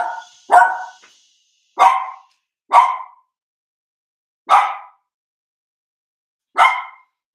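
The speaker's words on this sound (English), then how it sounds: "if my dogs start barking" Dogs barking indoors, six sharp separate barks at irregular intervals, loud and close against silence, with no talk.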